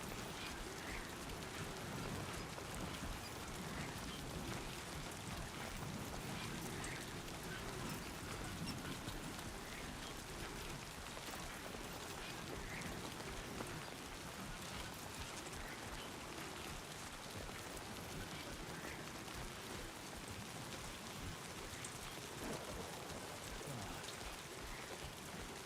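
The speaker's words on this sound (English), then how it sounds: "this game will sometimes try to put you to sleep because of the rain sounds" Steady rain pours down in the video game Death Stranding 2, a soft, constant hiss of drops on surfaces with no break.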